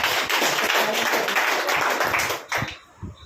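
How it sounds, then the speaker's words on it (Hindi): An audience at a motivational business talk gives a dense burst of clapping for about two and a half seconds, then it breaks into a few scattered claps that trail off. "तो ये एक बार तालियां बजाओ अपने खुद के लिए।"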